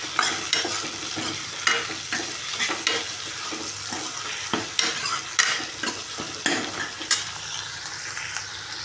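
Tomatoes and onions sautéing in a pan with rock salt, with steady sizzling and frying under repeated stirring and occasional scrapes of a utensil against the pan, close and fairly loud throughout with no talk.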